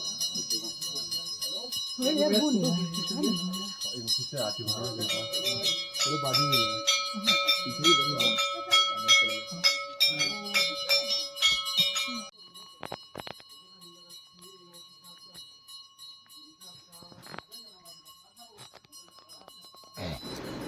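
Metal bells ring out at Kedarnath temple, clear sustained tones layered over a crowd of voices for the first half, then fading to a faint hum with occasional distant strikes.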